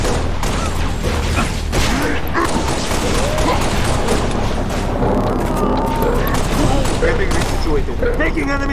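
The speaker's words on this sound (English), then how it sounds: "Taking enemy fire!" Dense, sustained gunfire of overlapping rapid shots and bursts fills a Halo: Reach firefight, loud and close throughout with mechanical clanks mixed in.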